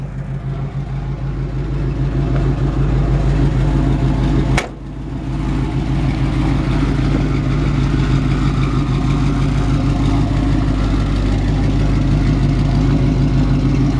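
A 1967 Chevrolet C-10 pickup idles through side exhausts exiting at the back on both sides, a loud, steady low rumble held throughout with one sharp click near the middle.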